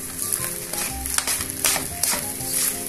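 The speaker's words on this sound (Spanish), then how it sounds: "Recuerden que estamos salteando el arroz, ¿no?" Rice sautéed with curry sauce in a pan, a close, steady sizzle with a few quick stirring scrapes over a brief moment.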